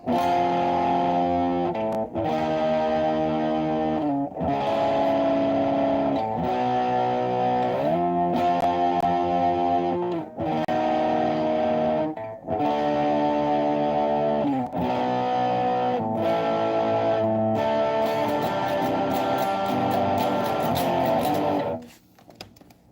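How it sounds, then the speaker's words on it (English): Electric guitar played through a heavy distortion effect, sustained chords ringing loud and saturated in long held blocks separated by brief gaps, cutting off abruptly near the end. "might sound better without the damn distortion"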